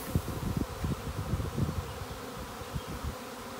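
A swarm of honeybees buzzes continuously, a dense low hum with fluttering wingbeats close around, no voices.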